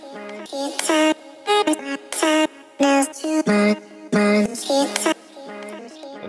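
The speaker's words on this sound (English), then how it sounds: "The next thing we have here is the vocal chops also getting sent to the reverb" Soloed vocal chops, self-sung and drenched in reverb, pop out as short pitched syllable stabs in an uneven rhythm, with reverb tails ringing between the bursts.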